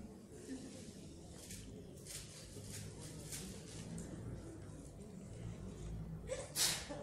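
A single sharp sneeze bursts out near the end, loud and sudden after several seconds of low, quiet background during a Spanish-language Bible talk.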